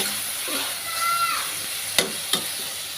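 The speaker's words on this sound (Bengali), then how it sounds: "আগে থেকে ভেজে রাখা মাছগুলো দিয়ে দিচ্ছি" Pre-fried fish goes into a sizzling masala in a pan and gets stirred, a moderate hiss broken by two sharp utensil knocks, with a faint voice briefly in the background.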